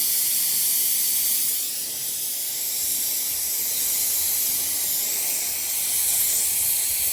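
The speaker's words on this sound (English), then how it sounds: "I'm just going to sprinkle some borax on it to clean it up." Borax sprinkled onto molten metal during sand casting of a bangle gives off a steady, bright hiss and sizzle that continues evenly for several seconds, with no voices.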